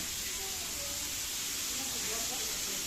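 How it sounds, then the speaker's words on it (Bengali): Fish frying gently in hot oil in a pan, a soft, even sizzle and hiss held at low level throughout, with no talk over it. "এদিকে আবার মাছ ভাজাও হয়ে গেছে, আস্তে আস্তে ভাজা চলছে"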